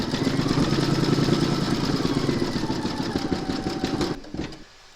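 An embroidery machine stitches a star design in metallic thread for a mermaid and dolphin applique, a steady close mechanical whirring and clatter that runs for about four seconds before stopping abruptly, leaving faint low noise.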